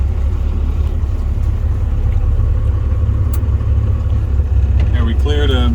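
Douglas TBL280 towbarless pushback tractor being driven, a loud, steady low engine rumble close by throughout, with a voice heard briefly near the end.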